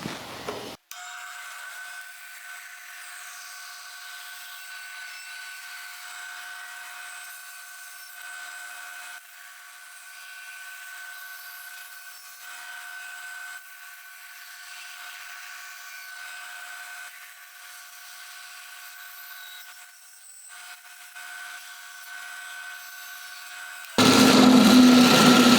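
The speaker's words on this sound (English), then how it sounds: "I'm going to take it over to the bandsaw and I'm going to cut these out" Bandsaw cutting zebrawood knife handle blanks, a steady high whine with a constant sawing hiss that runs almost unbroken for over twenty seconds, close and fairly loud.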